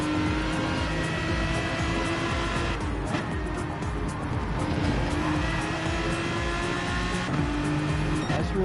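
Sim racing cars roar around a circuit in a video game, drifting tires into the grass and over curbs. A dense, loud, continuous engine drone persists throughout, with a faint voice now and then.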